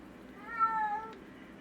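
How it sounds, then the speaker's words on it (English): A cat gives a single short, clear meow at moderate volume over a faint steady background hum. "Kitty, I hear you."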